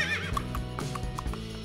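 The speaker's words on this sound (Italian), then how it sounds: "Un cavallo magico è arrivato in soccorso." A magical horse in a Frozen-themed cartoon story gives a high, wavering neigh, followed by a few light clip-clop hoofbeats over a busy music bed.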